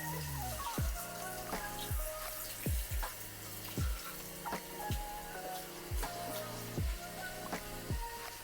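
Tap water running steadily into a sink while stick-and-stitch embroidery stabilizer is rinsed out of a dress, with regular splashy pulses and soft clatter, fairly quiet and close.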